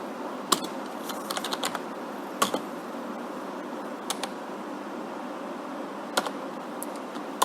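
Keys clack on a computer keyboard while a shell script is entered, with scattered sharp taps and a firmer enter press standing out over a quiet room, no talking.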